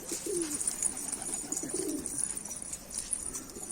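Pigeons in a loft give soft, low cooing calls in a few repeated phrases, with faint chirps and steady background hiss and no talking.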